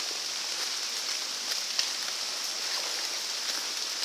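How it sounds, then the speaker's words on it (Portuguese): Rain falls in a steady, even hiss in a forest during a wet hike, with an occasional faint patter and no voices. "Eu achei que a chuva fosse dar uma trégua. Fosse dar um refresco, mas não rolou."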